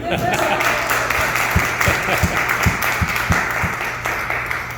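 An audience at a church retreat gathering breaks into applause, a dense wash of clapping with a few sharper claps standing out, fading slightly toward the end amid room noise.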